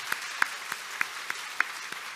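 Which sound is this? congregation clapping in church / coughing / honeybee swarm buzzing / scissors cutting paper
congregation clapping in church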